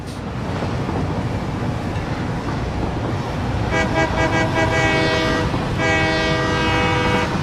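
A train in the video game Satisfactory rumbles steadily along the tracks, then gives two long, loud blasts of its horn or whistle over the running noise.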